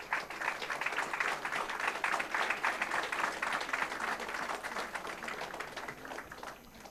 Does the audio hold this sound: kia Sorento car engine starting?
no